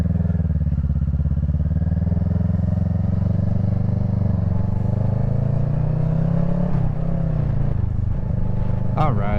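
A motorcycle engine drones loudly and steadily during a ride in cold wind, its pitch sliding slowly as the bike turns around, with a few clattering bumps near the end.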